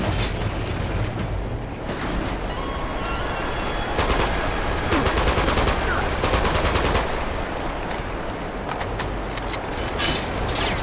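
Automatic gunfire in Uncharted 2 set in Tibet, with loud sustained bursts of rapid shots and heavy clatter throughout, broken by brief pauses, with voices faintly underneath.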